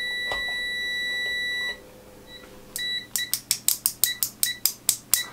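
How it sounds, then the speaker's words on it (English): A Venlab multimeter's continuity beeper first sounds a steady high tone that cuts off, then gives a few short chirps, followed by a regular string of about a dozen sharp, slowish beeps. "Unfortunately, the speed of the continuity beep is on the slow side."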